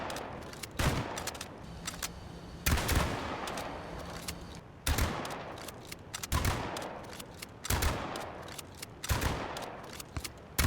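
Video game gunfire comes in rapid automatic bursts, several sustained volleys separated by short pauses, loud and close with no talking.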